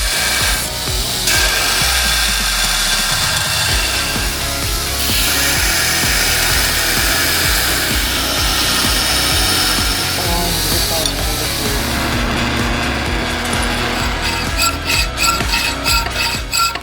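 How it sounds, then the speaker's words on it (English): Belt sander grinding a hand-forged steel knife, a loud continuous abrasive rasp and whine that swells and shifts as the blade is pressed and moved, with rhythmic scraping toward the end. "then I'll start grinding it with the belt sander."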